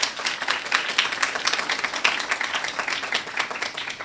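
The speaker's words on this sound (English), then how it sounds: "Let's give Mr. Warner another round of applause." An audience at a distinguished lecture applauds the speaker, a steady dense round of clapping from many hands lasting a few seconds.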